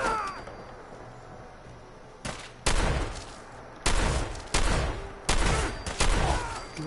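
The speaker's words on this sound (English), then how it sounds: "That's a friggin' rocket launcher!" A rocket launcher in Fallout 4 fires several times, each a loud sharp blast with a rumbling tail, arriving in an irregular run of about six shots after a quieter lead-in.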